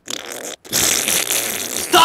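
A voice imitates fart noises in two bursts, a short fluttering blurt and then a longer, loud, sputtering raspberry, close to the microphone.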